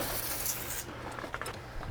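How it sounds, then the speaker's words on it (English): Insecticide spray hisses steadily from a sprayer along the foundation of a mobile home, a close continuous rush that thins out partway through, with no talking. "Spraying the foundation of the home right now."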